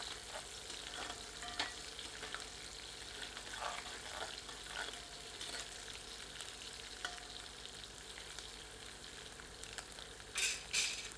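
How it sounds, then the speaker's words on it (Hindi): Green chillies and carom seeds frying in a pan for a taro root dish, a low continuous sizzle with scattered crackles and stirring scrapes, a few louder pops toward the end. "अब हरी मिर्चों को भी इसमें सम्मिलित कर देते हैं। मिलाकर थोड़ी देर भूनते हैं।"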